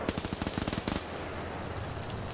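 Rapid automatic fire from an MP40 submachine gun in a large WW2 multiplayer battle game, Germans against Soviets: a burst of about fifteen sharp, close shots over one second, then stopping abruptly into a low background rumble.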